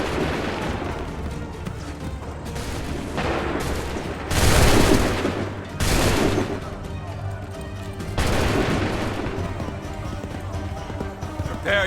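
Musket volleys crash out in the video game Assassin's Creed 3, several loud broadband bursts over a dense din of battle with hooves and shouting voices throughout.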